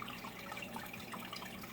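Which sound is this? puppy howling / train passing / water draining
water draining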